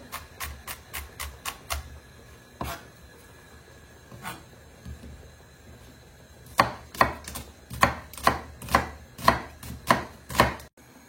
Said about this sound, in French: l'oignon il est haché, on va le mettre directement